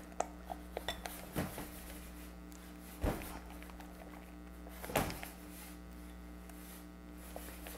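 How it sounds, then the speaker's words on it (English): Pistachio mousse mixture is whisked in a bowl, making faint, rapid metallic scraping and occasional louder clinks of the whisk against the bowl. A steady electrical hum runs underneath throughout. "whisk it up"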